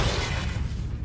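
Bombarda explosion spell cast in Hogwarts Legacy, a loud, dense burst with a heavy low rumble that holds steady for about a second.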